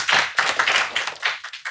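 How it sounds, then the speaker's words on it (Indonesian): A short burst of applause from a group at an Indonesian poetry or speaker event, dense claps close by, tapering off at the end. "Heru Joni Putra, tepuk tangan teman-teman."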